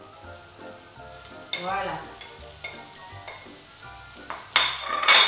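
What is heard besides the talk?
shallots sweating in melted butter in a pan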